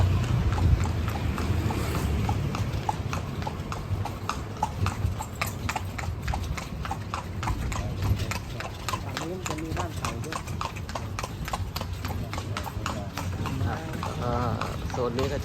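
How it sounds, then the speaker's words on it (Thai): Horse hooves clip-clop steadily as a horse-drawn carriage rolls through old streets of Lampang, Thailand, a fast even rhythm running throughout over road and wheel noise, with someone talking over it. "ก็อย่าลืม มานั่ง รถม้านะครับ"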